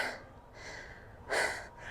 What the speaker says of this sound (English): Inhale as we come forward.